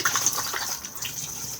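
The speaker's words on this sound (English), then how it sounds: "push to flush just up here" A Thetford cassette toilet in a Bailey Unicorn Valencia caravan flushing, a steady close rush of water for over a second, moderately loud with no voices.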